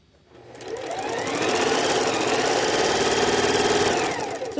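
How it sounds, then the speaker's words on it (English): Sewing machine stitching a hem runs up to speed, holds a fast even whirring chatter for a few seconds close by, then slows toward the end, with no talking over it. "So I'm just gonna sew it down here."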